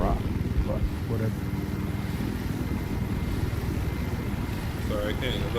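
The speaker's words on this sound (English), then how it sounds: "The helicopter's really loud." A loud, steady helicopter rotor drone in Battlefield Hardline fills the scene, with a constant low thrum and voices talking faintly underneath.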